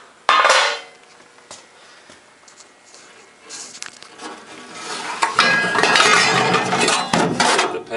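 Metal parts of an electric smoker clatter and clank as the top and pan are pulled off, with a sharp bang at the start, scattered clicks, then a louder stretch of rattling and scraping toward the end.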